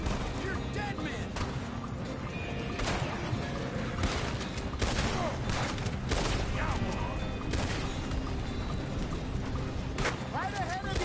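Gunfire in Red Dead Redemption 2 crackles as a running gunfight, with repeated sharp shots scattered throughout at moderate loudness, alongside hoofbeats and shouting voices.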